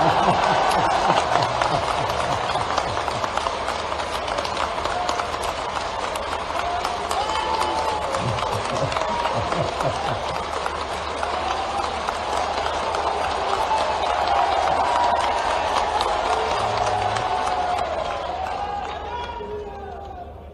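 Large audience at a panchayat secretaries' federation convention in Bhopal applauds in a steady, dense roar of clapping that fills the hall for about twenty seconds, with voices and crowd murmur mixed in.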